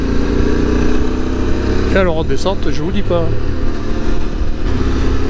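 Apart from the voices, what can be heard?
QJ SRT600SX motorcycle engine on Pyrenees mountain pass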